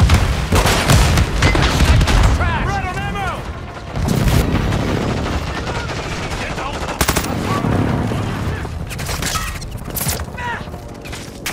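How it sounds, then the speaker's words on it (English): Battle in Call of Duty Modern Warfare 2 multiplayer hardpoint, loud bursts of machine-gun fire and heavy booms of airstrike explosions, with in-game voice callouts over the din. "Hostile airstrike incoming!"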